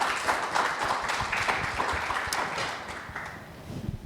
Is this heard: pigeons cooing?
no